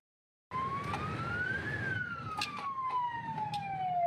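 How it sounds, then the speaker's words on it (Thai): A vehicle siren sounding as the departure signal for a convoy at the 31st BS International Offroad Challenge in Thailand, one long rising-then-falling wail that starts abruptly over engine rumble. "พร้อมแล้วจะเดินทางครับใช้ไซเรนเป็นสัญญาณนะ"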